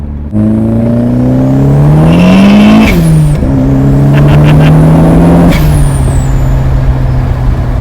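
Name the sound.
turbocharged Mazda Protege sedan driving on the road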